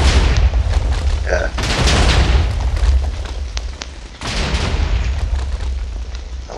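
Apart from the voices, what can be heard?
TNT block explosions in Minecraft video game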